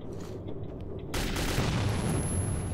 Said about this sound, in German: eine Granate direkt bei ihm explodiert